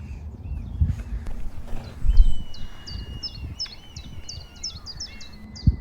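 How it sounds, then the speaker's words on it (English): A red kite gives a series of high, whistly cries repeating overhead against quiet outdoor ambience, with a few soft thuds and rustles nearby. "I love that sound of a red kite overhead."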